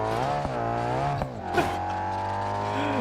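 A damaged car in BeamNG.drive with its engine in the back, a steady droning engine tone that rises and falls in pitch as it drives, with a few scraping knocks over it.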